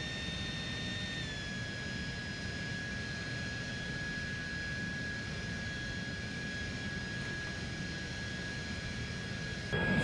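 A blower runs steadily at low throttle, feeding air into a burning tree stump outdoors, giving a continuous close, even whooshing roar with a faint high whine that dips slightly early on and holds unchanged throughout.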